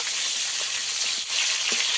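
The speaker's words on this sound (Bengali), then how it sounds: "এই মাছগুলো ওই মাছগুলোর মতো লাল লাল করে ভেজে নেব" Pieces of kalbaus fish fry in oil with a dense, even sizzle that stays loud and close for the whole moment, broken only by a faint dip and a few soft knocks.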